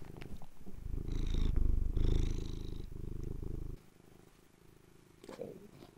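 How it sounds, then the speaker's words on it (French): A pet cat purring close by, a steady low rumbling drone through the first half that then drops off, followed by quieter, fainter purring. "Vous entendez ronronner?"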